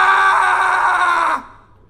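A person lets out one loud, sustained scream lasting over a second, which then cuts off abruptly and leaves near silence.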